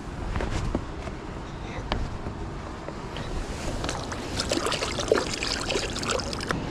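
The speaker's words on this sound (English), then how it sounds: "Wash my hands real quick." Water splashes and trickles steadily for several seconds while hands are rinsed beside a large Texas spillway during a fishing trip, with constant rushing water in the background and occasional soft bumps.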